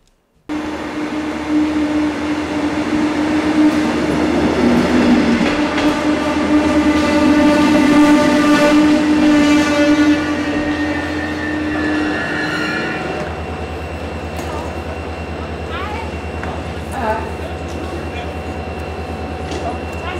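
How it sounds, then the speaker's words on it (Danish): A train rolls along the rails toward Roskilde, Denmark, heard close with a steady low rumble and droning tones that swell and then ease, with faint squeals and clicks throughout. "Nu skal jeg først afsted til Roskilde med toget"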